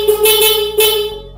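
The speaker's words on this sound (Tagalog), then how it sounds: "Busina tayo mga katropa." A stock car horn sounds close and loud as two sharp, steady honks, the second following a brief dip, then cuts off.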